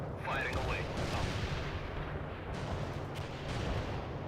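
Artillery fires in the World in Conflict video game as a run of deep, rumbling booms and blasts, rolling continuously with a voice speaking briefly near the start.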